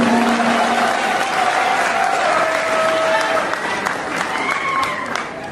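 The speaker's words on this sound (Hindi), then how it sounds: "मोहतरमा जोरदार तालियों से इस्तकबाल करें" Applause at a university mushaira welcoming a poet, a steady crowd clapping throughout while a speaker's voice carries over it.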